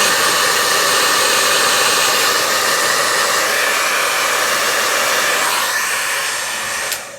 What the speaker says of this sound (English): put it with a hair dryer.